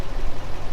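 A truck engine idles steadily at close range while charging a battery, giving a continuous low rumble with no breaks.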